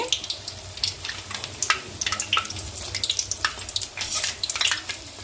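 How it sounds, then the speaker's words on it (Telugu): Stuffed green chilies for mirapakaya bajji frying in oil, a continuous crackling, bubbling sizzle with scattered sharp pops, moderately loud and steady. "ఇదిగోనండి మిరపకాయలు ఇలాగ వేగుతున్నాయి"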